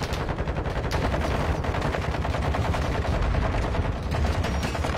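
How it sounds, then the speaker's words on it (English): Fortnite gunfire rattles off in dense, rapid bursts with no break throughout, loud and close, like sustained automatic fire in a firefight. "that's a lot of shooting."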